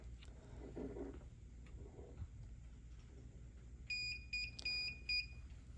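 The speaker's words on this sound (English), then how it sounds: "Now the NVR is beeping in the background because I don't have a hard drive in my NVR." An NVR security recorder with no hard drive installed gives off a short series of thin, high electronic beeps in irregular bursts, fairly faint against a low background hum.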